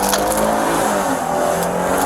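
A car engine revs hard as the vehicle pulls away during a police confrontation, a loud, steady, close roar that holds for about two seconds with faint higher squeal-like streaks.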